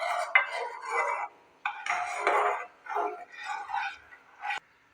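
A spoon stirring milk as it boils in a pot for a curd-based sweet, with scraping, clinking strokes against the metal in uneven bursts separated by brief pauses.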